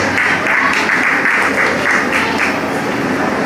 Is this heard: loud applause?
yes